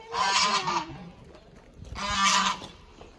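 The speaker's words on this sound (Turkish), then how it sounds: "Kazlar diyor biz de istiyoruz" Two loud, harsh honks from geese nearby, each lasting under a second, separated by a brief lull with quieter rustling.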